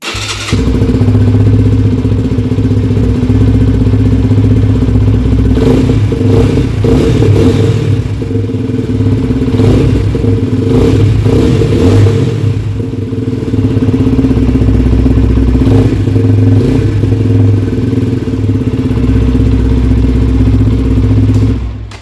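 Peugeot PM-01 motorcycle engine running after starting, a loud close steady idle with low rumble and a few brief revs in the middle, continuous throughout with no talk.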